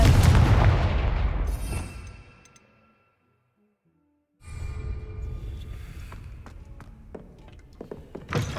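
Confringo fire spell blasting in Hogwarts Legacy gameplay, a loud booming burst that fades into silence, then a few sharper crackling impacts with ambient game noise.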